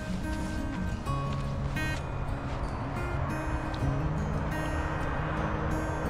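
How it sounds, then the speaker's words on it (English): Steady highway traffic from Highway 50 beside an RV campground in Placerville, a continuous low rumble of passing vehicles with a broad, even roar throughout, no distinct individual pass-bys. "Right next to Highway 50,"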